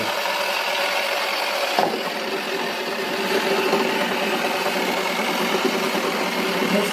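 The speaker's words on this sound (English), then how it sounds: "This is going to be a dry ball in a wacky washer, toy wacky washer." Toy wacky washer washing machine spinning with a dry ball inside, a steady motor whir with a faint rattle, close and continuous and briefly jolted early on, with no talking.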